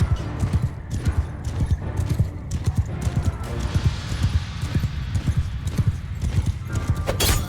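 Rapid, rhythmic hoofbeats pound steadily, a horse galloping close by with a faint whinny now and then, in the video game Mount & Blade II: Bannerlord.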